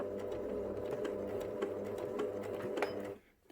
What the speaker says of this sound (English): And now I do the last few stitches to complete. And my reverse stitches to make sure my seam doesn't come undone.